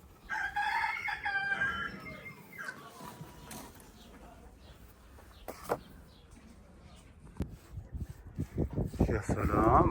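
Chickens cluck and a rooster crows in a pigeon tower kept with chickens, a loud crow near the start and scattered clucks and rustling through the rest, with livestock noise rising at the end.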